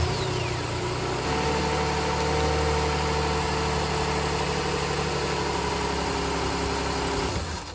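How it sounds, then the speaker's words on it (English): A vehicle engine runs at a steady idle during a battery charging test, a loud, even rumble with a faint high whine that continues for several seconds before cutting off. "we're going to do a charging test. So we're going to select that, and we'll have go ahead and start the vehicle"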